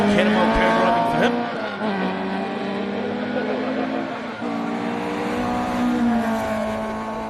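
A historic rally car races along a special stage at Rally Otago in New Zealand, its engine loud and near, climbing through revs with audible gear changes and faint tire noise.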